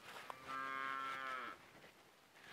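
A cow moos once, a long drawn-out harmonic call lasting about a second, close and fairly loud, followed by quiet farmyard background with no talking.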